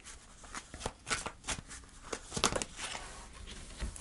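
Tarot cards are shuffled and drawn in a series of quick, crisp riffling and sliding bursts, close and fairly soft, with irregular pauses between handfuls and no voices over them.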